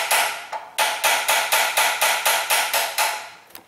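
Repeated metal taps on the engine intake manifold of a GM vehicle near the knock sensor, about eleven sharp, evenly spaced ringing strikes, loud and close with no talking.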